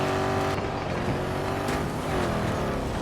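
A vehicle drives in Battlefield 2042 with a steady, loud engine drone that rises and falls as it turns and accelerates. Tire noise and game sounds run underneath.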